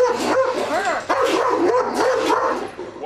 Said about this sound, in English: Here's a problem pooch called Burger before